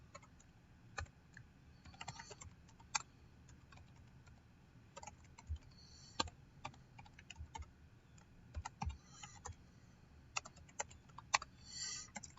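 Typing an SQL query on a computer keyboard, giving quiet, sparse key clicks in irregular clusters, with a few louder taps against a hushed background.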